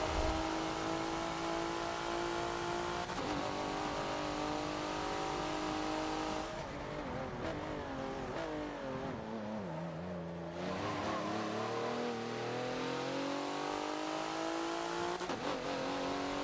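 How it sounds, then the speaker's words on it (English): A race car engine in the video game Forza drones steadily at high revs on the Rio National Reverse track, its pitch dipping as it slows into a turn and then climbing again, loud and continuous with no talking. "what's that revving I hear behind me?"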